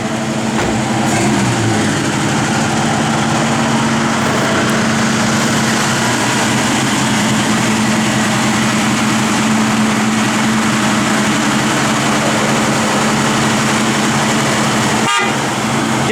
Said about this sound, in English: Blower motor does work.